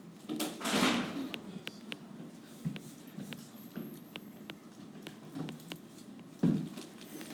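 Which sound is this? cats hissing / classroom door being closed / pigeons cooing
classroom door being closed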